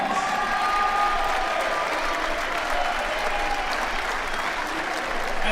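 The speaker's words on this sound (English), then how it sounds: "let's give all of our seniors a round of applause" A gym crowd at a Greater Latrobe versus McKeesport high school boys basketball game applauds the seniors with steady, dense clapping and some cheering, with a few voices mixed in throughout.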